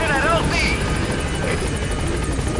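The Pequod helicopter in Metal Gear Solid 5 thrums steadily and close as it arrives, a continuous rotor drone under a brief radio voice.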